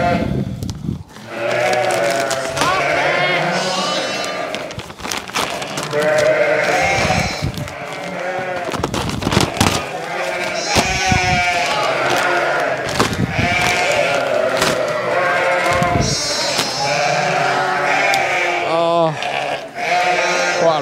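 Sheep on a farm during lambing season bleat loudly and continuously, many overlapping calls from the flock filling the air, with a person talking now and then among them.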